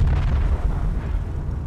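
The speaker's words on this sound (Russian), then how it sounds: "Гранаты." Grenade explosions in the military shooter game Project Reality, heavy booming blasts rolling together over a short stretch, loud and low without speech.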